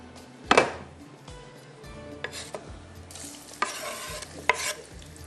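Onions frying in hot oil in a pan, browning for a chicken liver and potato tahiri, with sharp bursts of sizzle and stirring scrapes at intervals over a steady low kitchen hum.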